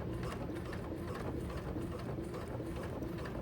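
A sewing machine top stitches a messenger bag, running in a steady, continuous whir with a low mechanical hum and no pauses.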